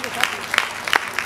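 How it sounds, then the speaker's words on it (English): Brief scattered clapping from an audience at a U-Report launch event in Nigeria, with a few sharp claps spread across a moment of crowd noise. "A round of applause for UNICEF."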